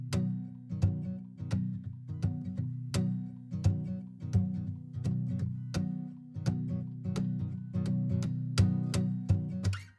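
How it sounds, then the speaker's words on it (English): Acoustic guitar strummed in a steady rhythm, its high end raised through a vintage console, with bright, crisp pick attacks over a full low body, playing alone and close throughout. "On the acoustic guitar, pulling up the console, I have raised the high frequency."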